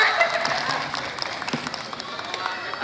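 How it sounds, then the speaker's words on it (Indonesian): Audience applause at a welcoming event, steady scattered clapping from a crowd filling the space, moderately loud throughout with no clear break. "Tepuk tangan aja pokoknya untuk kita semua."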